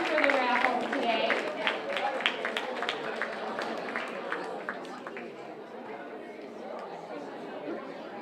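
Audience applause at a mentalist-magician matinee show in a township park district venue: a dense, steady patter of many hands clapping, mixed with crowd chatter and voices, gradually thinning toward the end.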